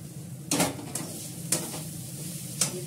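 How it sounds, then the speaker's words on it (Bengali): Chow mein fries in a pan with very little oil, a soft continuous sizzle close by, broken by a few brief scraping stirs of a utensil against the pan. "চাউমিনটা বসিয়ে দিলাম। আমি একদম অল্প তেলে চাউমিন করি"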